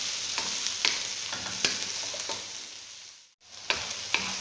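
Onions sautéing in a pan until golden brown, a steady close sizzle with periodic scraping stirs, and a brief drop to near silence before the frying resumes.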